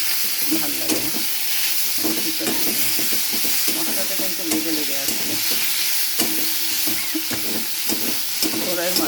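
Garlic and green chillies fry in oil for a spicy boal fish curry, a dense continuous sizzle joined by repeated scraping strokes of a spoon stirring in the pan.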